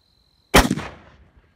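A single loud rifle shot from a 1976 Marlin 336 .30-30 carbine fired outdoors at water-filled jugs, a sharp crack after a quiet start with a short decaying echo.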